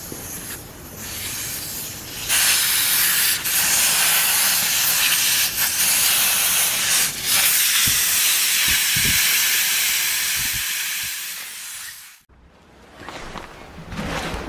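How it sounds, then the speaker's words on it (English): Air rushes in a loud, steady hiss from a tire valve stem with the valve core pulled, holding for several seconds under a few scattered knocks before cutting off abruptly, followed by faint handling noise. "And all the air can come out."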